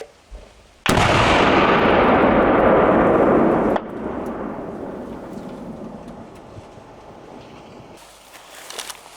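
A massive, close detonation of a batch of artillery shells being destroyed by sappers erupts with a sudden roar, then a long rumbling wash of debris and echo slowly decays.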